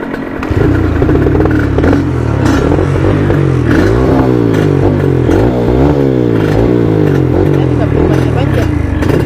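A Yamaha TS 125 trail motorcycle on a dirt track in Makassar, its engine running loud and close and revving up and down repeatedly with throttle swells across the whole stretch.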